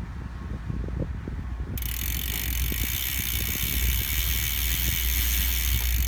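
Rear wheel of a Trek Top Fuel 8 mountain bike spun freely, its hub giving a steady, fast ratcheting click close up, with a brighter hiss joining after a couple of seconds; no one speaks.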